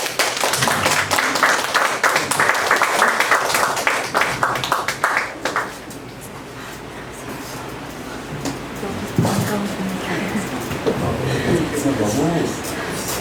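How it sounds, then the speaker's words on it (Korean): Audience clapping welcoming a speaker to a talk on climate warming and apple farming, loud applause for about five seconds that stops abruptly, followed by a quieter stretch with a voice speaking. "큰 박수로 환영해 주십시오"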